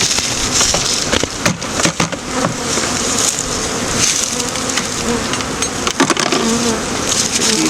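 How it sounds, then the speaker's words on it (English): Honey bees buzz loudly and continuously up close while a spring hive split is installed, the swarm's drone broken by a few sharp knocks from handling the hive equipment. "Now we're going to make sure we get all our bees in there."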